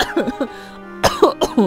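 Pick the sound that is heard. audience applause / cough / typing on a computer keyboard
cough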